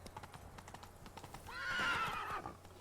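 Roach, a horse in The Witcher 3: Wild Hunt (Blood and Wine), trots with steady clip-clopping hooves and then gives a loud, rising whinny in the middle of the clip.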